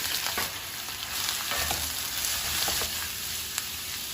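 About five medium onions sauté in hot oil for mutton biryani, with a continuous close sizzle and occasional stirring scrapes and clicks and no talking.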